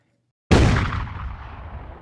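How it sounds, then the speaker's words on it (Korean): After a moment of silence, a single sudden gunshot cracks out loud and close, then its heavy boom and echo die away over about a second and a half. "급작스런 총성이 울린다."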